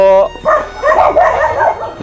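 A few sharp dog barks and yips close by, with a brief tonal whine at the start and a voice mixed in.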